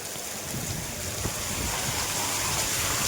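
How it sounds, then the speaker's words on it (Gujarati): Heavy monsoon rain pours down steadily in a continuous, dense, even roar with no breaks, filling the whole scene. "પાછું વરસાદ ચાલુ જ છે કન્ટિન્યુ"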